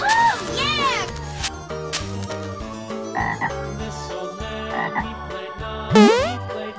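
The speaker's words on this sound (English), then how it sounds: "Green frog." Toy frog from a children's zoo-animal toy set playing a loud, cartoonish croaking sound effect with bouncy music, featuring several rippling croaks and a sharp sliding call near the end, close and clear.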